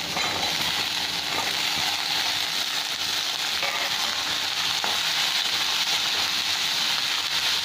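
Potatoes frying in oil in a pan with already fried onions, a steady dense sizzle and crackle running throughout, close and even, with faint stirring scrapes and no talking.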